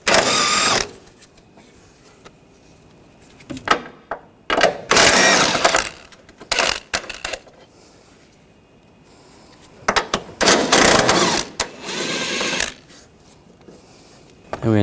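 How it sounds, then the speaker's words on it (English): Engine mount nuts on a 2013-2022 Buick Encore being loosened with a 15mm socket and ratchet, bursts of clicking and metallic rattling separated by quiet pauses, close up, with no talking. "We're going to take these 3 nuts off,"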